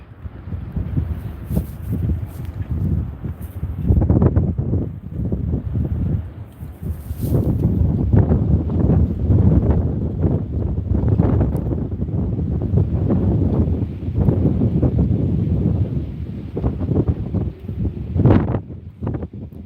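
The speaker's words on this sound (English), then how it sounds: "Dude, that wind is nasty." Strong, cold winter storm wind in Ohio roars and buffets the microphone in loud continuous gusts, rumbling and surging without a break for about twenty seconds.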